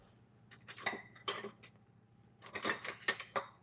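Metal kitchen utensils clink and rattle in short, close bursts as a whisk is pulled from among them, with a pause between the two clusters of clattering.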